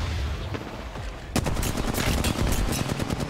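Gunfire in the battle royale game Apex Legends: a few scattered shots at first, then a loud close burst of rapid automatic fire that keeps going to the end.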